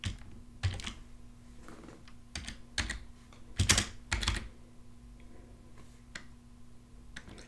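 Typing on a computer keyboard during setup of a React app, with irregular bursts of close key clicks and short pauses, heard alone over a faint steady hum.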